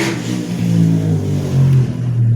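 A motorcycle passes outside, its engine droning and revving with a steady tone that swells and eases, heard at moderate distance with no talk over it.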